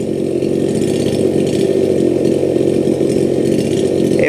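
A 52cc Anbull gas chainsaw with a 48 cm bar runs loud and close at a steady high drone, its engine note holding constant throughout with no voices.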